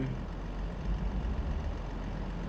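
A heavy truck's diesel engine in Euro Truck Simulator 2 rumbles low and steady as the rig sets off, a constant, fairly quiet drone with no talk over it.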